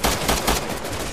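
Enemy gunfire in the video game Resident Evil 6 during a rooftop hostage extraction, with a short burst of rapid, rattling shots that pulse a few times and then trail off.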